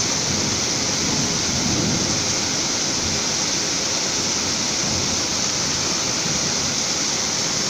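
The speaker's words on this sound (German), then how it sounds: "Ja, wie ihr seht, es kommen auch Hagelkörner." Thick hailstones falling in a heavy thunderstorm in Marburg make a dense, unbroken roaring hiss that stays loud and steady throughout, with no voices.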